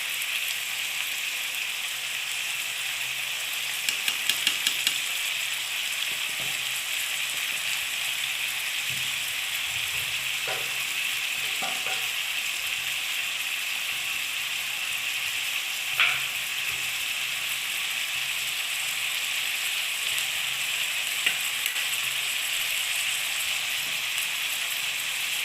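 Local chicken meat and onions frying in a pan for Assamese chicken curry, a steady, even sizzle throughout with a few soft clinks of stirring, close and alone.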